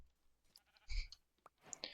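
A Minecraft sheep lets out short, faint bleats among soft game clicks, quiet and brief.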